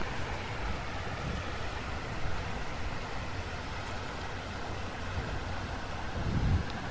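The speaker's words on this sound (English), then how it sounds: "This is like the overflow for the canal. It goes round the locks and back into the canal further down." Water rushes steadily through a canal overflow channel that runs around the locks, a constant broadband roar heard close by outdoors with a little wind and no voices.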